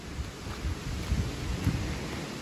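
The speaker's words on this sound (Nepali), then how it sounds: "कस्तो हावा चलेको" Strong wind blowing outdoors along a rough path in Nepal, a dense roaring rumble buffeting the microphone in uneven gusts throughout, with no voices.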